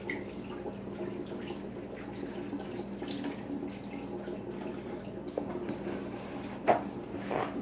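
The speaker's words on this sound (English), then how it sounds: "So I'm gonna wash my hands real quick, just right here." A tap runs steadily as hands are washed under it to rinse off charcoal, with water splashing in an even, fairly quiet stream and a brief louder splash near the end.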